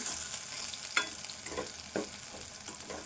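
Green chillies and onion greens fry in a pan with a steady, soft sizzle, broken by light scraping stirs every half second or so, with no voices.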